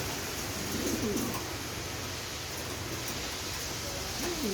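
Soft pigeon coos, heard twice a few seconds apart, faint beneath a constant hissing background noise.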